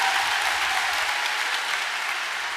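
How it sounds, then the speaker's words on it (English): An audience at the BT Young Scientists and Technology Exhibition 2024 opening ceremony gives the President a big round of applause, dense, even clapping from a large crowd with no speech. "if you can give a huge round of applause, to thank the President for being here today"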